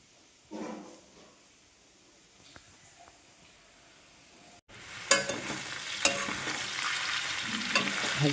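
Food sizzles and fries in a pan in a home kitchen. The pan is faint and distant at first, then loud and close with steady hissing and a few sharp clatters of stirring.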